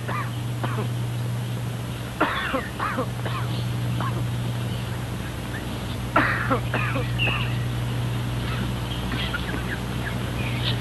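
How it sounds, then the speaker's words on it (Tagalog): A sick gamefowl rooster coughs in short, rasping bursts, with two clear clusters separated by a few seconds, heard at moderate distance over a steady low electrical hum. "si Leonidas yung umuubo"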